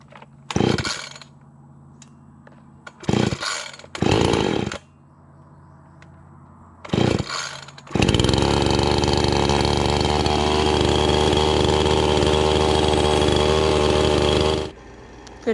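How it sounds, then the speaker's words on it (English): A Husqvarna 350 chainsaw engine warming up: several short revving bursts separated by pauses, then a loud, steady high-pitched run lasting about seven seconds before cutting off, close up with no talking. "I'm just warming up the saw right now."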